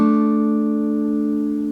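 A finger-picked acoustic guitar chord played with the pinky lifted off, a single ringing strum that sustains cleanly and slowly fades, close and alone.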